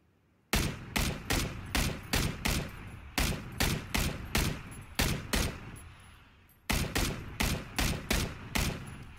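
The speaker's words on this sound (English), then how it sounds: "Shots over there." Gunfire in the video game PlayerUnknown's Battlegrounds: rapid bursts of sharp, loud shots in a steady rhythm, a short pause midway, then another volley, with no talking.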